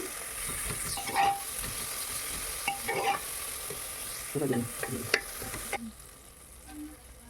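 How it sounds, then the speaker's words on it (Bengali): Tomato and chopped green chilli frying in a pan and stirred with a spoon, giving a faint steady sizzle with irregular soft scraping strokes close by. "এবার টমেটো লঙ্কা কুচি দিয়ে দেবো দিয়ে একটু নাড়াচাড়া দিয়ে দেবো"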